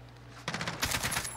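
P90 submachine gun fire in the video game Modern Warfare, a rapid burst of fairly faint, steady shots following a short lull of background game ambience.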